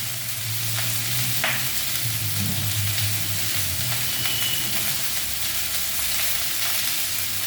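Salted bitter gourd fries in a pan with a dense, steady sizzle that fills the whole stretch, broken by occasional soft scrapes of stirring and no voices.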